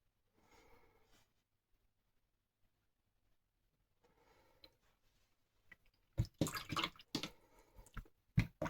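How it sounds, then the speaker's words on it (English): A watercolour paint brush is swished and rinsed in a water pot, with faint soft dabs first, then a burst of close, splashy swirling and clinking water sounds toward the end. "Rinsing my brush, dabbing it into the water."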